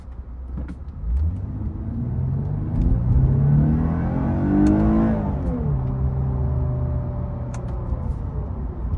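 A 2024 Lexus IS300 accelerating hard, its engine note climbing steadily through the gears from inside the cabin, loud and continuous with a brief shift dip midway, no talk.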